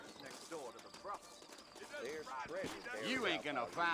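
Horse hooves clip-clop in a Western open-world game, Red Dead Redemption, as a quick, uneven trot of hoofbeats plays under in-game character dialogue.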